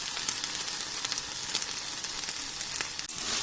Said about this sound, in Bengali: মাছগুলো ভাজা হয়ে গেছে তুলে দিচ্ছে